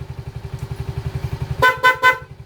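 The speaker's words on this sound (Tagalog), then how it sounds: "tapos loud horn" Three short, loud horn blasts in quick succession from a Smash 115 motorcycle with a faulty battery, over its close, steadily chugging engine.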